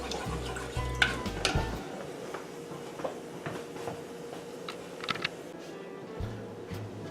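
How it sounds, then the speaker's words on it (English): A spoon stirs a tomato paste and cream mixture in a pot, giving a few faint scrapes and clinks over a quiet background hum. "I'm going to keep on stirring it to get all the tomato paste mixed in"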